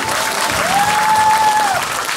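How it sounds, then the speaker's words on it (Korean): Audience applause at a street performance by a Korean gakseori folk entertainer at the Pohang fireworks festival, a dense steady patter of many hands lasting throughout, with a sustained whistle-like tone drifting over the middle. "박수 많이 쳐주시면"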